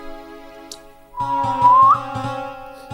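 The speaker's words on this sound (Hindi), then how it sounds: "सीटी तो मैं ऐसे ही मजाक में बजा रहा हूं।" A playful whistle blown during an evening satsang gathering in Surat at Holi: one short, fairly loud rising whistle tone near the middle, set against a steady droning musical background with light rhythmic taps and no talking.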